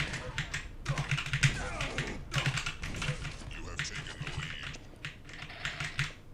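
Typing on an Aula F2088 RGB mechanical keyboard produces quick, soft, irregular key clicks and taps close up, with someone talking over parts of it.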